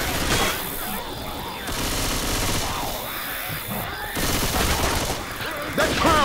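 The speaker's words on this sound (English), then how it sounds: "Watch where you're shooting." Continuous heavy gunfire in the zombie shooter video game Left 4 Dead 2, sustained rapid shooting mixed with game effects and character voices throughout.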